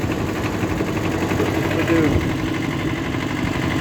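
A Kubota B5001 compact tractor engine runs steadily at a low idle-like rumble, close and continuous throughout, with a brief swell in the middle and no clear speech over it.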